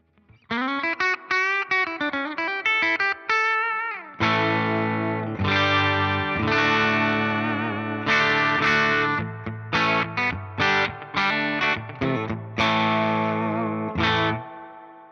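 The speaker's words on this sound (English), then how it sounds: "We got a lot of reverb going on" A distorted Reverend electric guitar plays a bending lead phrase, then heavy chords and riffs, with a washy amp reverb tail ringing after each hit.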